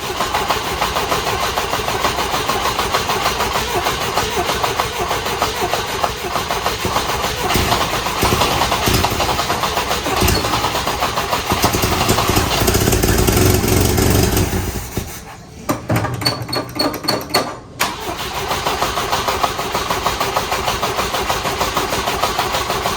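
A Volvo B20 engine in an abandoned Volvo Amazon with a head gasket problem, running with a loud, steady, rough roar that briefly sags and stumbles partway through before recovering.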